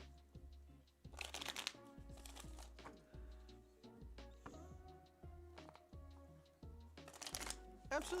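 Tarot cards being shuffled by hand, repeated riffling bursts and soft card slaps in an uneven rhythm, close and fairly quiet, with no voices.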